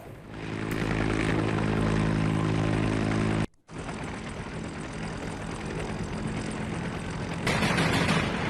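A loud, continuous attack helicopter rotor-and-engine roar fills the air, cutting out abruptly for a moment before resuming just as strongly.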